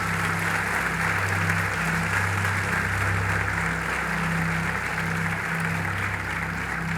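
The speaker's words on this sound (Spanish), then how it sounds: "Merece un aplauso el Señor." Congregation in a church applauding the Lord during a sermon, a continuous wash of clapping over a steady low hum and sustained organ-like tones.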